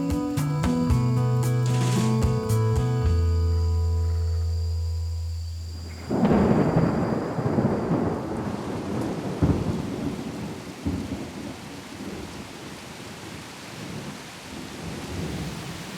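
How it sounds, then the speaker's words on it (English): Thunder rumbles and heavy tropical rain pours down at an outdoor primate sanctuary in Southeast Asia. A steady, dense hiss of downpour runs throughout, with a sudden louder surge partway through. "Sudden, thundery downpours are pretty normal in this part of the world."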